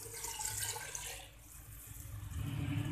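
A cup of water is poured into a pot of chickpea and potato curry, giving a steady, soft splashing and gurgling rush that runs for a few seconds and swells slightly at the end.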